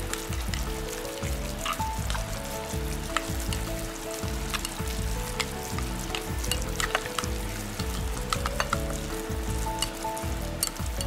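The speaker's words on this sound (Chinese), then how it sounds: "然后给它搅拌。" Glutinous rice mixed with pork, seasoning powder and salt is stirred into a sticky mass, giving a continuous wet, squelching and sizzly texture with small clicks of the utensil, close and steady with no talk.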